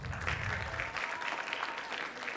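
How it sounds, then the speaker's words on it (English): A crowd at a board of education meeting claps steadily, a dense patter of many hands that continues evenly throughout at moderate volume. "Round of applause, gentlemen."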